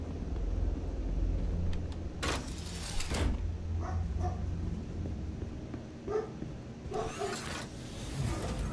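A dog barks at someone in the front yard, letting out several scattered sharp barks in two clusters over a steady low rumble, moderately near.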